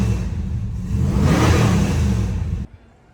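A classic Mopar A-body drag car accelerates at full throttle with a loud, rising engine roar that swells and then cuts off abruptly.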